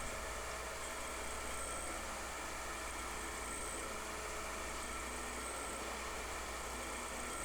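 A grinding machine runs steadily while resurfacing a flywheel during reconditioning, giving a continuous loud mechanical whir and hiss with no breaks and no voices.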